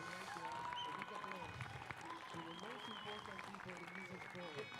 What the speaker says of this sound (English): I would like to ask a big applause to the most important people in this sport